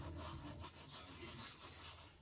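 Dried kasuri methi (fenugreek leaves) is crushed between the palms over a pan of soya chaap curry, a close, soft, dry rustling rub lasting a couple of seconds.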